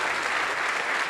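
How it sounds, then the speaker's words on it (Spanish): Steady audience applause fills the hall at a science and ideas congress in Chile, dense and continuous for the whole second with no voices above it. "Un gran aplauso."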